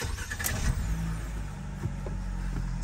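A 2023 Fiat Strada engine cranks and starts, with a brief starter whir followed by the engine catching into a steady idle, heard fairly close in a quiet setting.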